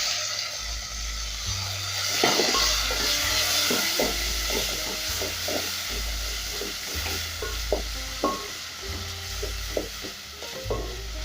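Ginger and tomatoes sizzle steadily in a hot pan while a utensil stirs them, with repeated scraping knocks over a continuous frying hiss; no voices.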